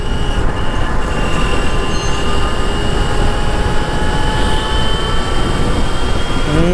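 An Ultraviolette F77 Mach 2 electric motorcycle accelerates hard in ballistic mode: a loud, continuous rush of wind with thin, high motor whine tones, the whine climbing in pitch near the end.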